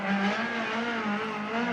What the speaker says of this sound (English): So here comes the number 2 car around now.